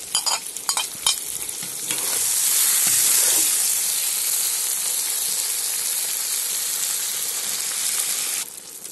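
Pickles tipped into a hot cauldron of frying bacon over a campfire give a loud burst of sizzling hiss, with stirring clatter at the start, and the sizzle holds steady until it cuts off near the end.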